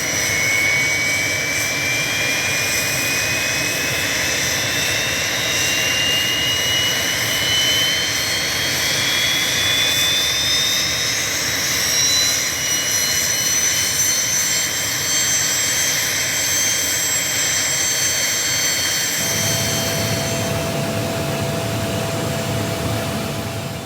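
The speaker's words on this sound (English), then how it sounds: "Before departure, the Mi-26 requires a lengthy engine and systems warm-up." Twin turboshaft engines of a Mi-26, the world's largest helicopter, warm up before departure with a loud, steady jet-like whine and rising tones, close by and unbroken, the pitch shifting near the end.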